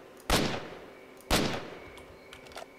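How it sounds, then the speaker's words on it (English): Gunfire in the video game STALKER: Shadow of Chernobyl, two separate booming shots a second apart that echo and decay, followed by fainter pops further off. "walk towards the source of these gunshots"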